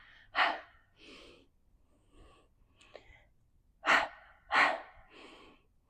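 Breathy exhalations during a Pilates leg-swing exercise, several soft puffs with two stronger close bursts near the end, heard alone without talk.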